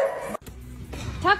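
A dog gives a couple of short, yippy bark sounds, close by, with people chatting around it and a brief quiet gap in between.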